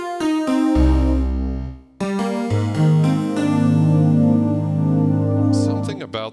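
A vintage Roland D50 digital synth patch plays bright layered chords with a deep bass note beneath, pausing briefly before a fuller, sustained pulsing chord swells and fades out at the end.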